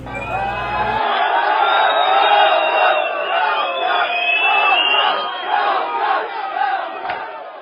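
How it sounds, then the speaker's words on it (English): Dense crowd of people yelling and shouting together at a gathering, a loud continuous roar of many voices with rising and falling swells and occasional whoops. "and sounds from people yelling in various gatherings."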